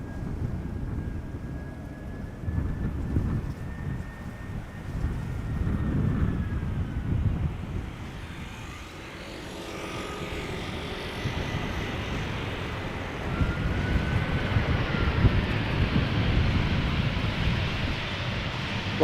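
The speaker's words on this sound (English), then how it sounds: "And this is TAP Air Portugal, arriving from Lisbon." A TAP Air Portugal airliner arriving from Lisbon onto Schiphol's Polderbaan runway, a distant jet roar rising and falling over about twenty seconds amid steady wind noise on the microphone.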